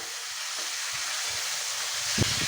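Bhetki fish bones frying in oil left from frying potatoes, a steady, close hiss and crackle of hot oil with a brief louder pop near the end.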